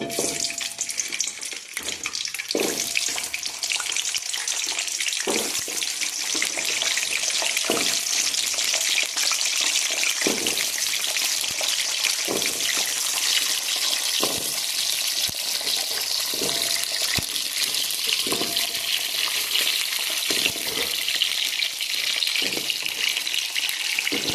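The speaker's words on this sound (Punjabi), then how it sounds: "ਹੁਣ ਸਰੋਂ ਦਾ ਤੇਲ ਹੋ ਗਿਆ ਗਰਮ ਇਹਦੇ ਵਿੱਚ ਪਹਿਨਾ ਆਪਾਂ ਨੇ ਨਾ ਔਲੇ ਪਾਉਣੇ ਆ" Amla, Indian gooseberries, fry in hot mustard oil with a steady dense sizzle throughout, broken by repeated sharp clicks and scrapes of stirring, with no voices.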